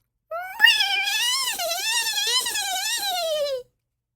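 A person imitates a dolphin call with a long, wavering high-pitched squeal that rises and falls for about three seconds, alone and close.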